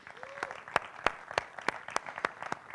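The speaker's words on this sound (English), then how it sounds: "a big applause for the founder and executive manager at WOW Systems, Miguel Campos." Scattered applause from a conference audience at a blockchain event in Madeira, heard as a series of distinct, fairly sharp claps at an uneven rhythm rather than a full dense ovation, at moderate level.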